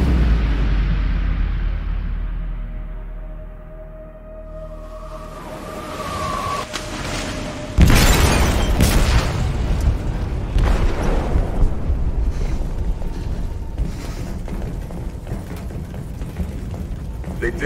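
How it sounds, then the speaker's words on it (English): In the Detroit: Become Human video game, an explosive detonates in a ship's hold with a sudden loud boom, followed by rumbling, creaking metal and debris continuing beneath a low mechanical drone and the faint sound of voices. "They detonated an explosive in the hold."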